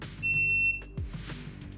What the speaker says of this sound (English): The timer will give a start signal